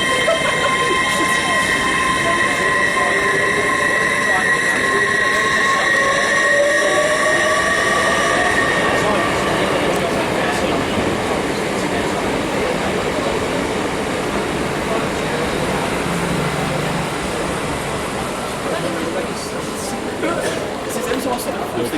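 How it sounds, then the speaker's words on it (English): Train arriving at a station, the 11:15 service to Sheffield, pulls in with a loud sustained rumble and high, drawn-out brake and wheel squeals over busy platform ambience. "Here comes our train, the 11:15 to Sheffield"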